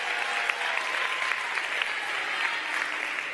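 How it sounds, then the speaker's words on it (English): Steady applause from an audience at an awards ceremony honoring winners, dense continuous clapping throughout with no pauses, moderately loud and even. "Now you may applaud."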